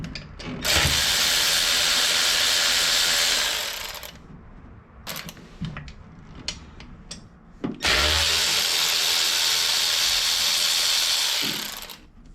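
A power tool whirs in two long, loud bursts with a ratcheting pause between them while an ICT billet spacer kit is removed from an LS engine to reach the valve covers.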